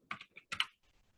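Typing on a computer keyboard during an office accounting task, a few crisp close keystrokes in two quick clusters, then faint softer taps fading out.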